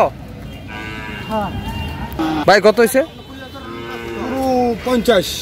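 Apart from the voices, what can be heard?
cattle mooing at a livestock market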